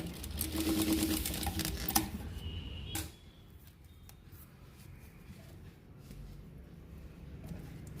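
An electric sewing machine stitching a folding vegetable bag whirs in a fast, rapid burst for about three seconds, then stops, leaving a quiet room with faint ticks and light handling.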